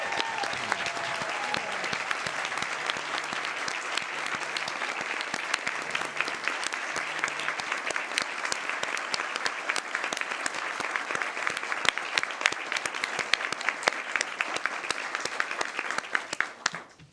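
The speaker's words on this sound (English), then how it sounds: "a big round of applause for all of the distinctions" Sustained applause from an audience at a school board of trustees regular voting meeting, steady dense clapping lasting throughout and tapering off at the very end.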